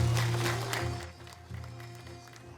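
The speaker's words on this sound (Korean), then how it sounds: "큰 박수 부탁드립니다" A crowd applauds at the Donghak Peasant Revolution anniversary ceremony at the Hwangtohyeon battlefield in Jeongeup, a steady wash of clapping that fades a little, with a sustained tone running underneath.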